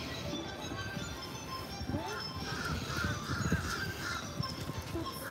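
Ducks at Walt Disney World's EPCOT honk and quack in a steady outdoor chatter of several birds, moderately loud against a busy park background.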